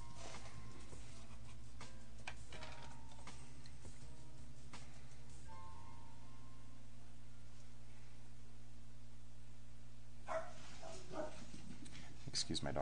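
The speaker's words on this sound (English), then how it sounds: "Excuse my dog's barking." A dog barks indoors in a few brief, fairly faint bursts spread across the stretch, behind a steady hum and quiet room noise.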